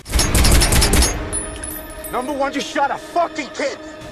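A rapid burst of brutal gunfire in a gangster film rattles out loud and close for about a second, then gives way to someone speaking.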